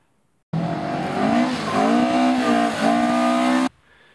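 A 1968 rear-wheel-drive Ford Escort rally car, originally an 1100 but now fitted with a 2-litre overhead cam engine, revs loudly and close by. The engine note rises and falls for about three seconds, starting and cutting off abruptly.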